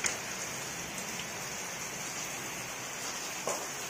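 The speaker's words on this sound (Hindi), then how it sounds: "बारिश आ गया काफी।" Heavy rain driven against a village house wall falls without letup, a thick even wash of noise with a couple of brief taps standing out.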